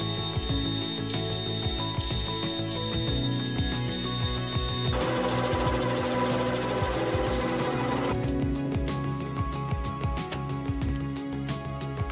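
A metal lathe turns a reduced section on the end of a small steel part for a model syringe engine, giving a continuous mechanical whir with repeated rapid ticking and scraping, and a shift in tone partway through.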